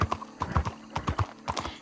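Horse hooves clip-clop steadily in Red Dead Redemption 2 on a farm, a quick, even run of sharp hoof strikes, close and loud throughout the brief stretch.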